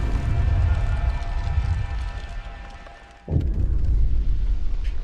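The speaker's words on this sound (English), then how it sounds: "Sound of explosion comes from the generator, and then din of terrified voices." A generator explodes in a colony-management video game with a sudden deep boom that cuts through a rumbling, droning background, followed by continued low roaring noise.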